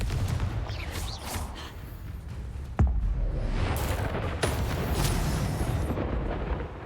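The Confringo explosive spell goes off in the video game Hogwarts Legacy amid continuous rumbling battle noise, with a sharp booming blast near the middle and a second impact shortly after.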